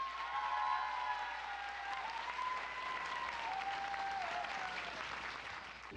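Steady audience applause at an award ceremony for a youth mock trial competition, a dense, even wash of clapping filling the room and easing slightly toward the end, with a faint sustained tone running beneath it.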